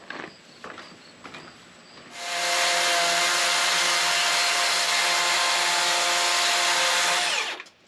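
A cordless battery-powered saw cuts through a timber frame beam, starting with a few short bursts and then settling into one long, loud, steady whine of several seconds before it winds down and stops.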